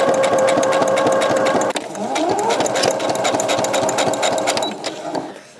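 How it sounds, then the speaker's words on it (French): A sewing machine stitches the full length of a seam on a fabric knitting bag, a steady rapid mechanical whirr that runs close and loud with one brief pause, then carries on without talk. "Et on coud sur toute la longueur de notre trait."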